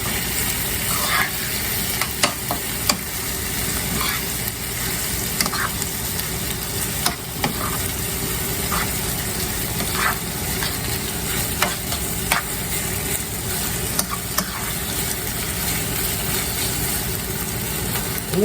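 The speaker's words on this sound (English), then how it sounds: "And just kind of stir it in good." Garlic chicken sizzles in a hot pan while cream cheese is stirred through it, steady frying crackle punctuated by repeated scraping and clicking of the utensil against the pan, close and fairly loud.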